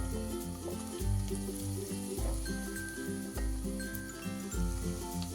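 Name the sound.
onion and garlic frying in hot oil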